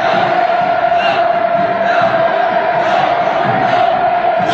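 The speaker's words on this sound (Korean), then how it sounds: "한영군중들의 열광적인 환호에 뜨거운 감례를 보내며" A huge welcoming crowd roars and cheers continuously as a motorcade approaches, a dense, loud wall of massed voices with no pauses.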